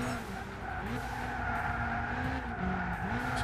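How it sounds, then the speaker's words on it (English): Subaru Impreza tyres squealing in the racing game Gran Turismo 6: a loud, steady, high-pitched skid wail that wavers in pitch and runs continuously over the engine drone. "Oh my God, squeal on these tyres."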